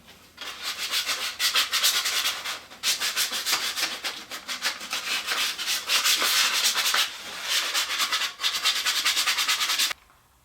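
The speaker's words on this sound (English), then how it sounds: "you want to soften the edges around all of the outside perimeter and give it a good surface sanding" Loud, continuous sanding rasps across a wooden disc's edges and surface in long rhythmic passes, pausing briefly a few times before stopping near the end.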